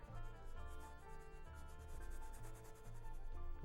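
Paintbrush scrubbing paint onto paper in a winter stone-bridge landscape, a soft continuous rubbing with quick back-and-forth strokes, faint and close, no voices.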